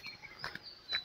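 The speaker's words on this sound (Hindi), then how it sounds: "बाकी चिड़ियों की चहकाट आपको सुनाई दे रही होगी।" Songbirds chirp faintly in a quiet Uttarakhand village on a mild sunny morning, with a few short, bright calls spread sparsely across a soft outdoor background.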